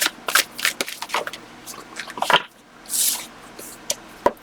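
Tarot cards are shuffled by hand in a series of quick riffling bursts and soft slaps, close and fairly quiet, with no talking.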